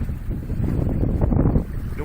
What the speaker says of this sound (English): the wind was still settling